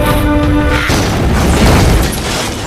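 A cannon explodes in a kung fu film scene: a loud, close boom with crashing debris and a rumbling tail, cutting off a brief ringing tone just before it.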